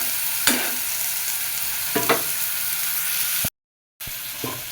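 Chopped potatoes fry in a pan with a steady sizzle, and a few louder scrapes of stirring come through. The sound cuts out completely for about half a second, then the frying resumes.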